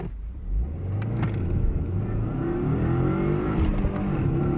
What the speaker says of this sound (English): Ooh, that was a good crackle.